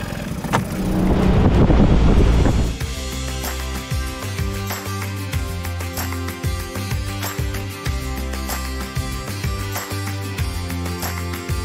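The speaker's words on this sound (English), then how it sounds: "Let's crank up the boat and get going that way." A boat motor roars loudly for a couple of seconds, then settles into a steady running drone with rhythmic thumping, no voices.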